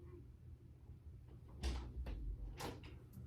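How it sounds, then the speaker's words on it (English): Knocks on a door arrive in two or three short, moderately loud raps over a quiet room background, with no voices during them. "Oh, you knocked."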